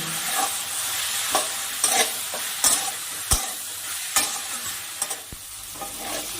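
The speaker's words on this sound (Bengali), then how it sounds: "এবার ভালো করে মশলাটা কষিয়ে নেব" Spice paste with tomato, green chilli, salt, turmeric and chilli powder sautéed in a pan, with a soft steady sizzle and regular scraping clicks of a spatula stirring, close and alone.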